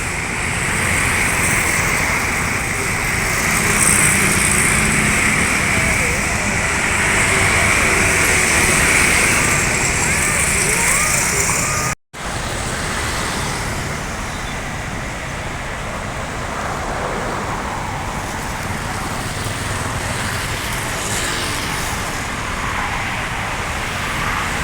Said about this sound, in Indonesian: Macet di lampu merah Macan Lindungan.